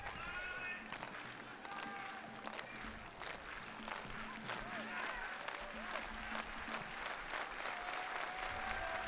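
A stadium crowd cheers and claps through an Ottawa Fury FC versus Tampa Bay Rowdies soccer match, a dense, steady roar with sharp claps and a few horn-like tones running throughout, with no voice heard.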